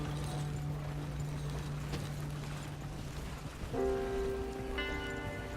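Horse hooves clopping beside a rolling horse-drawn wagon in the Red Dead Redemption 2 video game, a soft steady clip-clop over rain patter and a low hum, with a tonal music-like sound entering near the end.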